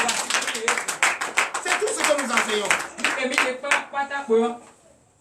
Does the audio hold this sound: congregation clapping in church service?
yes